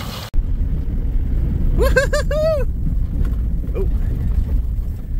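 Pickup truck rolling over wet soil with a steady low engine and road rumble, tire noise and wind buffeting throughout; a person whoops briefly partway through.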